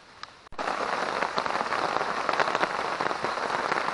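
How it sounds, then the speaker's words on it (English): Steady rain drumming on a camping tent during a hurricane-driven storm, a dense continuous patter close overhead after a brief quieter start, with no voices. "The rain has settled in, as you can tell."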